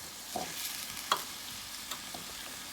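Rice being stirred in a frying pan for Mexican rice, a soft scraping mix with a few sharp utensil clicks against the pan, fairly quiet and close with no talking.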